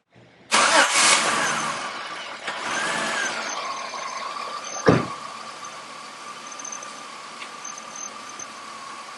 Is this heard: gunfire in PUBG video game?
no